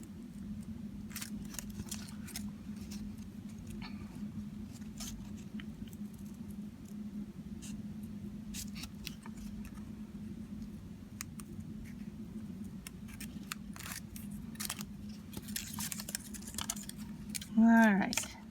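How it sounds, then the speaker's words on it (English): Scissors snip V-shaped cuts into the ends of an origami ribbon bow, small crisp close clicks and paper snips scattered over a steady low hum, with a brief louder rustle near the end. "I'm just going to cut a little V-cut into each one to finish them off."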